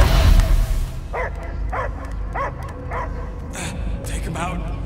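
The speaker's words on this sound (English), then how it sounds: "I hear only barking" A dog barks in the Guardians of the Galaxy video game, a run of about seven evenly spaced, mid-distance barks following a loud opening rumble, over a steady low game ambience.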